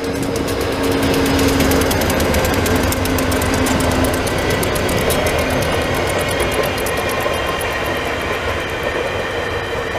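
A VIA Rail passenger train in Montreal in winter rumbles past close by, loud and continuous, with rhythmic wheel clatter on the rails throughout and no talking.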